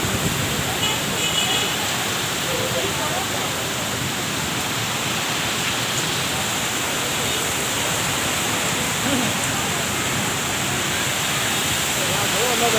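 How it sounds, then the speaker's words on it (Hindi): Heavy stormy rain in Islamabad pours down as a loud, continuous, dense roar, steady and unbroken for the whole stretch. "बहुत तूफानी बारिश"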